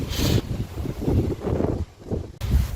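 Strong wind from Storm Ciarán sweeps through a Dutch village, roaring in low, buffeting gusts against the microphone that rise and fall several times in a few seconds.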